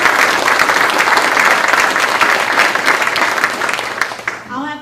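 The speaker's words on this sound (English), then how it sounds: "So let's give him another round of applause." An audience at a community partnership event bursts into sustained, dense applause that holds steady and then tapers off sharply at the end.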